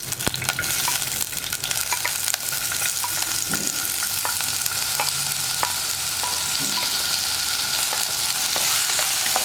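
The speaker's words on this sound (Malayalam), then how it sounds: "വെളിച്ചെണ്ണ നന്നായി ചൂടായി വരുമ്പോൾ നമ്മൾ കട്ട് ചെയ്ത് വെച്ചിരിക്കുന്ന ഉരുളക്കിഴങ്ങ് ഇട്ട് കൊടുക്കാം" Cut potatoes frying in hot coconut oil, a loud continuous close-up sizzle with scattered crackles and light stirring clicks throughout, no talking.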